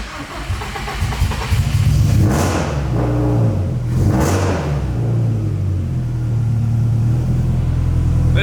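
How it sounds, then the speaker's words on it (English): A cold start of an 1100HP Subaru STI with a turbo, sitting unused for a long time: the engine cranks and catches, sharp revs swell twice, then settles into a loud, rumbling idle close by. "let's go ahead and get our very last cold start up"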